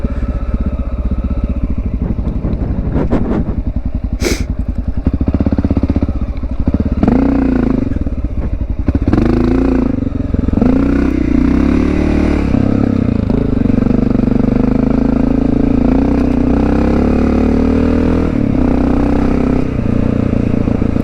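A Honda XR650L dual sport motorcycle's single-cylinder engine runs loud and close on a Fruitland Valley trail ride, rising and falling with throttle changes and clattering over rough ground throughout.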